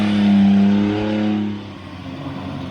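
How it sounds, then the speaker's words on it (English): A short-wheelbase Jeep JK drives off-road on a 4x4 tour near Coffs Harbour, New South Wales. The engine gives a loud, close drone that swells, then eases into a steadier, quieter rumble. "Next in line, Stephen and Vicky in the short wheelbase Jeep JK, and Stephen drives it beautifully."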